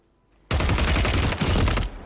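Rapid automatic gunfire from a Call of Duty Resurgence match erupts abruptly after a brief quiet moment, a dense, loud, continuous volley lasting over a second with a short dip mid-burst.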